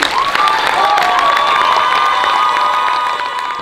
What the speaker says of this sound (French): Et elles aussi, elles méritent des applaudissements